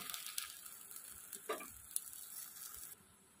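Gola ruti, a thin batter pancake, frying in a little oil in a kadai, giving a steady soft sizzle with faint crackles and a small stirring tick, quiet and close with no talk.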